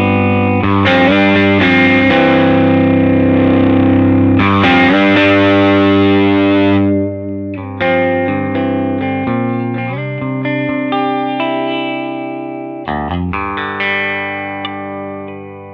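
An electric guitar plays through an Ami Effect Rough Cast boost pedal, made in France, giving a driven, gritty tone. Sustained chords ring out and then give way to shorter, choppier notes and phrases.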